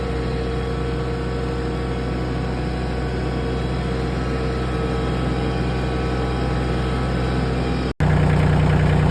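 A Kioti CK2610 compact tractor with a 35 hp engine runs at a steady held RPM in high gear. It gives a constant, droning mid-to-low engine hum with no talk, and a brief dropout comes near the end.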